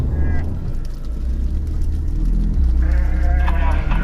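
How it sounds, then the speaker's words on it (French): A large flock of sheep bleating in a small Basque village street, several calls rising over a steady low rumble, with voices talking nearby. "c'est d'arriver dans un petit village et d'avoir un énorme troupeau de moutons en plein milieu"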